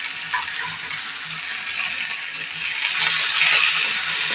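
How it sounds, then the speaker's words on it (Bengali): Curry leaves, herbs and ginger-garlic paste fry in hot oil for a prawn bharta, producing a loud continuous hissing sizzle that swells slightly toward the end, with no voices. "সব কটা জিনিস খুব সুন্দর ভাজা হচ্ছে"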